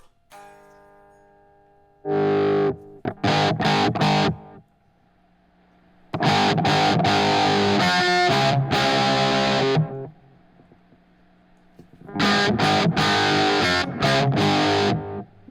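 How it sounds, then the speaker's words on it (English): An electric guitar plays through a pedalboard with an MXR EQ pedal switched on, giving a distorted tone. It comes in three loud bursts of chords and riffs separated by near-silent gaps, and nobody speaks. "Let's turn on the MXR EQ."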